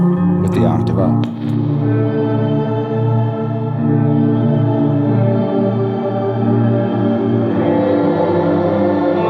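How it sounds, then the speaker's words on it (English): Electric guitar played through an effects unit with reverb and an octave-up voice engaged, fully wet: a few bright struck chords ring out into a dense, sustained, shimmering wash that holds steady and loud throughout. "We're going to engage the reverb with the octave up"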